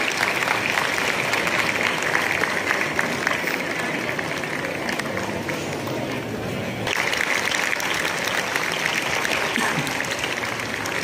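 Loud, sustained applause from an audience welcoming the education minister at the book fair opening at Pragati Maidan, a dense steady clatter of clapping that fills the whole stretch with a brief slight dip partway through.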